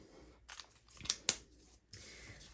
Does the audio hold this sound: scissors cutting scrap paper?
yes